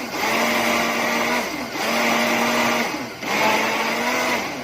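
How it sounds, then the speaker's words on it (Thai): A blender whirs loudly through a cantaloupe and yogurt mixture in three long steady runs with brief dips between them; no talk. "ทำการปั่นส่วนผสมให้เข้ากัน"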